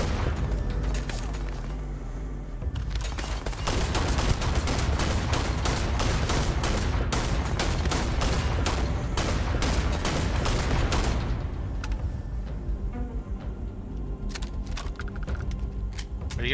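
Heavy gunfire in Starfield crackles in fast, dense volleys of sharp shots with booming impacts, a loud sustained burst that thins out into scattered single cracks toward the end.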